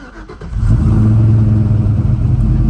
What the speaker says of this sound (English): I'll start it up and we'll hear the idle. In neutral.